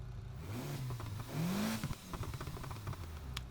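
A Mitsubishi Evo engine revs in the Need For Speed Heat racing game, its pitch climbing and then dropping, followed by clattering mechanical noise, heard at a moderate distance with no talking.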